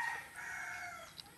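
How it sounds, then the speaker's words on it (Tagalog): A single fighting rooster crows in one long, drawn-out call at moderate distance, fairly faint, with no talking. "yung ating alaga o na mga panabog na manok"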